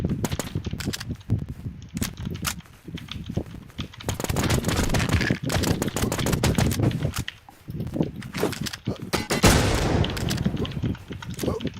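Rapid bursts of game gunfire crackle almost continuously, loud and dense, with brief lulls between volleys and faint background noise.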